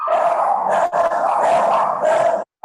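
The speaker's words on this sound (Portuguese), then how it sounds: "Vocês estão ouvindo meus cachorros?" Several pet dogs bark and yip continuously at close range, loud and insistent with only brief pauses, over a webinar call.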